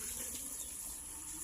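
Water poured into a homemade vase cut from recycled bamboo gives a soft, steady trickle and splash, faint and continuous for a brief moment with no talking.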